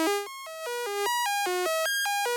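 A synthesizer sawtooth wave patched into a FUMANA filter bank, a quick bright sequence of buzzy stepped notes jumping up and down in pitch, steady and loud with no talking.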